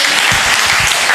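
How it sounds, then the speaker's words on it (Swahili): Loud, steady applause from a crowd, dense clapping filling the whole moment with no pauses. "Makofi mazuri kwa representative."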